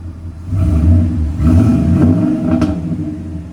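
A Ford F250 with a 6.2L V8 and a Flowmaster 50 series exhaust revs up, its deep, fairly loud exhaust note swelling twice before settling back, with no talking.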